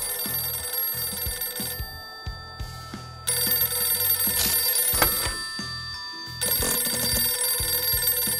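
A telephone rings loudly and close by in repeated bursts of bell-like trilling separated by brief pauses, with no voices over it.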